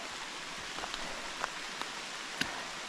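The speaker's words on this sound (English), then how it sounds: "Well, now it's raining." Steady rain hissing broadly on the Foothills Trail, with scattered louder drips and taps landing nearby, no voices.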